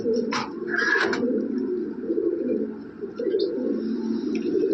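Lahori pigeons with long feathered feet, kept in a large cage, make soft repeated cooing close by, broken by a few brief chirps and wing rustles.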